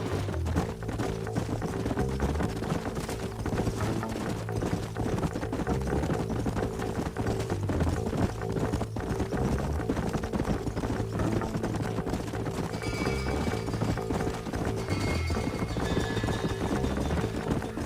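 Horse hooves gallop in the video game Red Dead Redemption, a steady clip-clop rhythm running throughout beneath a dense layer of game music and ambience.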